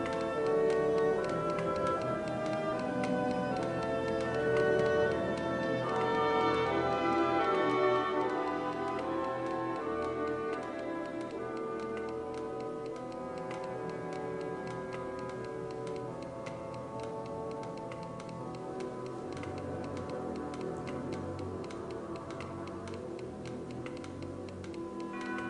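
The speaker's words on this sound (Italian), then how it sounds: "Sentite il ticchettio, questi qua sono i metronomi. Sentite che sono tutti spaiati" Busy orchestral music from Ravel's opera L'heure espagnole with a steady undercurrent of overlapping, out-of-sync metronome ticks, the clicking becoming more prominent as the music thins out in the second half.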